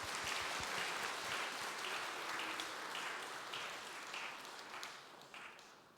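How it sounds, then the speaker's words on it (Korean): Congregation applause rings out in a church during a Sunday service, a dense wash of clapping that holds steady, then gradually thins and fades toward the end. "우리 박수하겠습니다"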